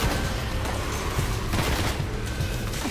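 Dense, continuous rapid gunfire from the first-person shooter video game Destiny on PS4, loud, overlapping bursts of shots with booming impacts filling the whole stretch.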